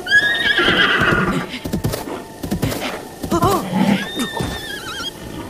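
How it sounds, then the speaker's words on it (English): A black horse with a white face in the video game Breath of the Wild neighs loudly in long whinnies, with hoof clip-clop and a second whinny later, over busy game sounds. "try catch this black horse. With a white face."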